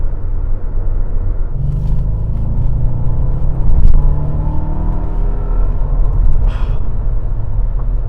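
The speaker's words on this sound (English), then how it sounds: "that sound out of that exhaust is just perfect" Deep, steady V8 rumble of a 2002 Mercedes-Benz E 55 AMG engine and exhaust, running loud and close throughout with a slight swell in revs near the middle and no voices.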